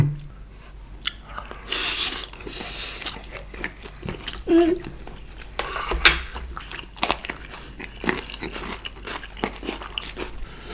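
Someone bites and chews fish eaten with chili fish sauce and rice, close to the mic, with irregular crunchy, wet mouth sounds spread through the stretch.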